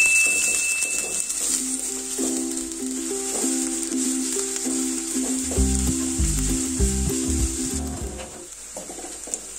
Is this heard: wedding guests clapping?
no